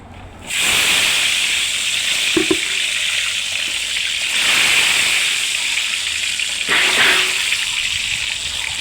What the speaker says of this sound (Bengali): এই যে আমি আজকে আপনাদের সামনে ডিম ভাজবো, ডিমটা ভাজা দেখবেন আপনারা